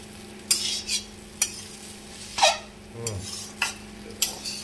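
Maggi noodles being stirred with masala in a pan, giving repeated scraping and clinking strokes in an irregular rhythm over a faint sizzle, close and moderately loud with no talking.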